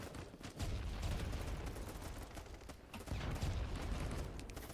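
Dense, continuous gunfire in the video game Battlebit, a loud rolling fusillade of overlapping shots with heavier bursts near the start and again after the midpoint.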